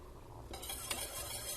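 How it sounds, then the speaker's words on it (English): Buttermilk syrup being whisked in a big pan with the burner just turned off, a soft close swishing and light metallic ticking, quiet and brief with no voices. "Whisk it just a bit."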